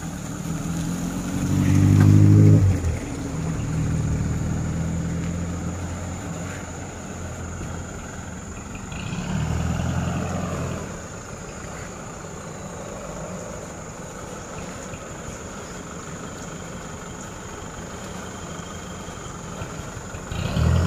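A heavily loaded truck carrying close to 20 tons labours along a badly damaged road between Kendari and Bone, its engine droning steadily with a louder surge early on and another swell midway, no talk over it.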